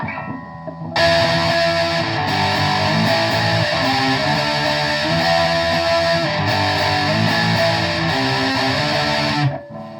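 A distorted electric guitar on its middle and neck pickups plays a loud, sustained riff with chugging low notes and a buzzing, saturated tone, then stops abruptly.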